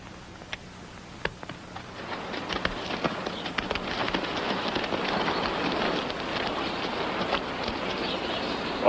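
Steady rain falls and patters on a surface outdoors near a shack, a dense even hiss that builds gradually and continues throughout, with a few sharper drip-like taps early on.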